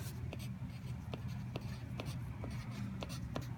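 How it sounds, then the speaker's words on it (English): The word "absolute" being handwritten during a lesson on Enlightenment notes: a series of short, evenly spaced pen or marker strokes, close and fairly soft, over a steady low background hum. "we're going to write absolute."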